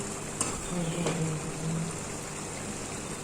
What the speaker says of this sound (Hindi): अब हम इसे बिल्कुल आराम से उठाते हुए इसमें डालेंगे और अच्छे से फ्राई कर लेंगे